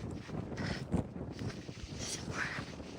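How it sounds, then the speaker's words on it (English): Strong wind sweeps across a mountainside on an Appalachian Trail hike, buffeting the microphone in rough, uneven gusts that are faint overall with a few louder blasts. "It's actually so windy that I'm getting pushed off the mountains."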